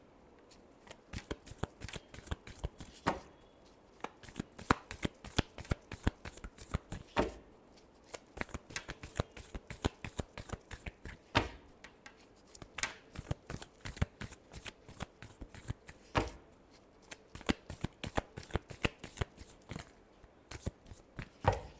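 Tarot cards being shuffled by hand during a love reading, a long run of quick crisp riffles and flicks with brief pauses between bursts, close and clear with no talking.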